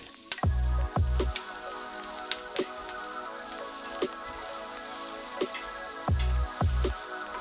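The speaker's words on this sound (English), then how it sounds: "we're going to start just by frying all this in some olive oil" Oil sizzles steadily in a pan as garlic fries in olive oil, broken by a few dull clunks from a utensil or pan.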